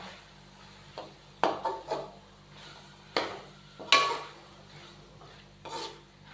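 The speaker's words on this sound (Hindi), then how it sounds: "गाजरों को शामिल करने के बाद हम अच्छे से इसको मिक्स करेंगे।" Chopped carrots are stirred into fried masala in a pot for carrot pulao, giving a few sharp spoon clinks and scrapes against the metal over a faint background hiss.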